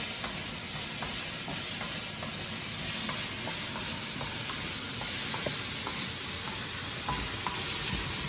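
Shrimp, broccoli and mushrooms stir-fry in a wok with a steady, close sizzle and hiss, and faint spatula scrapes tick through it now and then, with no voices.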